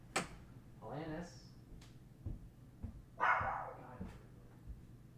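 A pet dog barks several times, close by, after being let outside, in short sharp bursts separated by pauses, with a few knocks and bumps in between.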